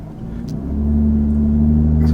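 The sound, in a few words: Lotus Evora 400 sports car engine during test drive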